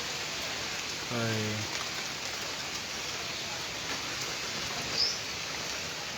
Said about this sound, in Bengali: আমাদের বরিশালে বৃষ্টি হইতেছে